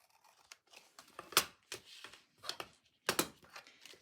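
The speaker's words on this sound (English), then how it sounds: "snip away the excess" Small scissors snip washi tape and paper for a herbarium journal, a close, quiet series of crisp cuts and light crinkles in an uneven rhythm, with two sharper snips standing out, no voices.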